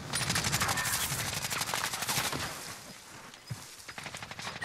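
Rapid automatic gunfire in Call of Duty Warzone, dense bursts from two shooters crackling loudly and continuously for several seconds, then thinning to scattered shots.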